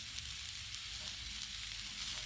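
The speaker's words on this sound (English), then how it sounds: "Stir things up a little." Cabbage, kielbasa and potatoes frying on a Blackstone griddle, a constant loud crackling sizzle with faint scraping as the food is stirred.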